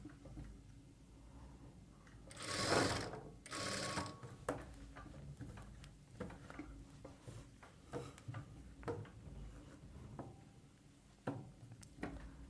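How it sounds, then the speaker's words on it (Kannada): A sewing machine stitches the side seam of a plain blouse in two short close bursts, then falls to soft ticks and small handling clicks as the work is stopped and checked. "ಸ್ವಲ್ಪ ಸ್ಟಿಚ್ ಮಾಡಿ ಸ್ಟಾಪ್ ಮಾಡಿ ಚೆಕ್ ಮಾಡ್ಕೊಳ್ಬೇಕು."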